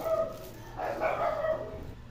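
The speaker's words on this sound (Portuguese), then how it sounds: "é minha cachorra latindo" A female dog barks faintly in the distance indoors, a few muffled yips and barks over a quiet background.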